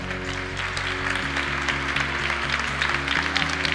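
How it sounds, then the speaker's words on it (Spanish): Steady applause from an audience at a sports gala in Mijas, dense clapping throughout, with a rhythmic low beat of music underneath. "Fuerte aplauso para Fede"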